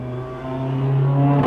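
A race car roars past, its engine pitch holding steady then dipping slightly as it swells louder toward the end.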